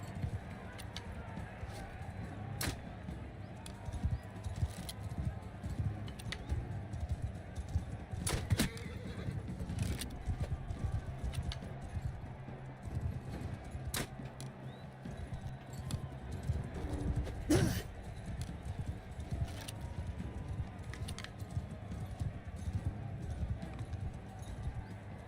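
Horse hooves clip-clop steadily in a Mount & Blade 2 battle, with occasional whinnies and sharp game impacts mixed in, moderately loud throughout.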